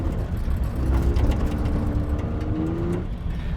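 A cheap Mitsubishi 3000GT on bald tires, driven moderately: a steady engine drone with a rising whine and low road rumble, loud and continuous, the rattles blending into the cabin noise.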